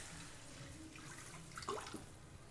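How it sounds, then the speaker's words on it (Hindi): Water is poured into a cooking pot while oats khichdi is being made, giving a faint, steady splashing stream that swells briefly before easing off. "पानी डाल दिया,"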